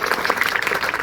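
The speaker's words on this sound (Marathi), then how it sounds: "टाळ्या वाजून जोरदार स्वागत करायचं" Applause welcoming guests at a school educational-supplies distribution event, a dense burst of many hands clapping close by and steady for about a second.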